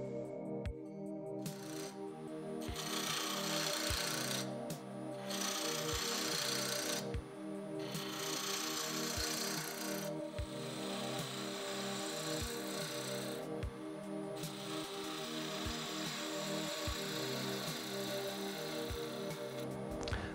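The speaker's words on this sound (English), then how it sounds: "So over to the lathe here, we've got a little pen blank mounted, which we're going to do some roughing cuts" Pen blank spinning on a wood lathe while a high-speed steel gouge takes roughing cuts, giving a steady, continuous loud scraping drone with regular rhythmic knocks throughout and no talking.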